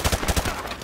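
Rapid gunfire in the first-person shooter Modern Warfare Remastered, several quick punchy shots in a burst followed by a reverberating tail that fades out.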